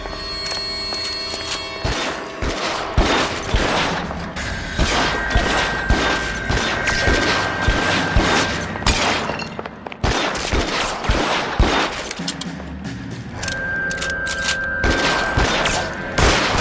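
Gunfire erupts during a shootout in the video game L.A. Noire: a dense, loud barrage of rapid shots and bursts with heavy booming impacts that rarely lets up.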